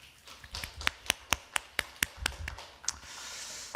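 A church congregation at a Wednesday Bible study claps in a quick, fairly even run of about a dozen sharp claps. The claps are faint and distant and trail off near the end.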